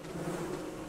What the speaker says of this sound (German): Und Wespen.